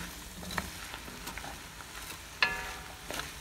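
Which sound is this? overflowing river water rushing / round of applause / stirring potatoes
stirring potatoes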